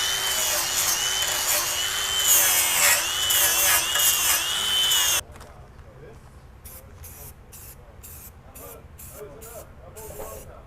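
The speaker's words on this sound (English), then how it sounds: "we're going to grind off any sharp spots from breaking those welds" Grinding off sharp weld spots on a Ford Transit front bumper gives a loud, steady high-pitched whine, then stops abruptly; short rhythmic hissing bursts of spray paint follow at a lower level.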